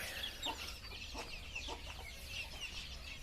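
A flock of chickens clucks and chatters close by in a steady, busy murmur. A few sharper clucks stand out above the others.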